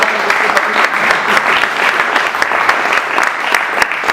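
A theatre audience gives a performer sustained applause, a loud, dense patter of many hands that carries on evenly for several seconds, with a few sharper claps standing out.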